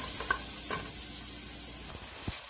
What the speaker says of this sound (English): Now I will add the pork. And I'm just going to saute this until golden brown.